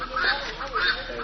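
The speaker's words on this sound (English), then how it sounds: "Feeding the birds is a great way to interact with them" Water birds such as ducks, geese, swans or pelicans call while being fed, a couple of honking, quacking cries close by in quick succession.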